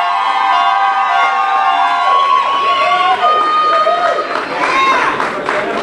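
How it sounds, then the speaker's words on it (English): A welcoming crowd cheers and claps for returning under-14 and under-16 football teams, with excited shouts and whistle-like cries rising over a loud voice speaking through the noise. "Come on, give them a round of applause."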